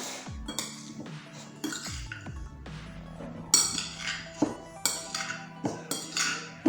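A spoon stirs sliced carrots and nutmeg in a bowl, giving close, irregular clinks and scrapes against the dish that repeat several times with short pauses between them.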